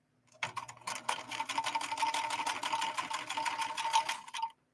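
A 1970s Kenmore 158.13520 sewing machine sews its longest stitch, a close, rapid, evenly ticking clatter that starts abruptly, runs steadily for about four seconds and then stops.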